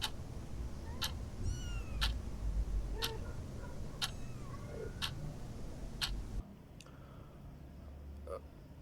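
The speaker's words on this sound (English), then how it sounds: "Was one little kitten." A little kitten meows repeatedly, with short, high, regular calls roughly once a second over a faint, steady background hum.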